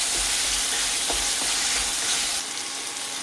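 Chopped tomatoes fry in hot oil for a chilli chutney, giving a dense, continuous sizzle and crackle close by, with a slight drop in intensity near the end.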